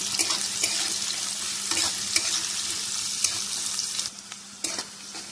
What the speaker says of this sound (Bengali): একটু পেঁয়াজটা ভেজে নেব